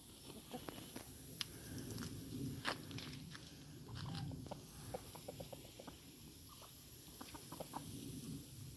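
Scattered short clucks and scratchy pecking sounds from a few Australorp chickens in a garden nearby, with faint background noise and no talking.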